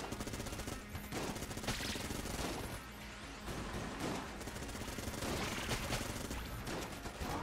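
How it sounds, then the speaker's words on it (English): Rapid, continuous Vulcan cannon fire from the video game Enter the Gungeon forms a dense, steady barrage that carries on without pause across the whole stretch. "this Vulcan cannon that I've got right now. It fires a little bit slowly to start with"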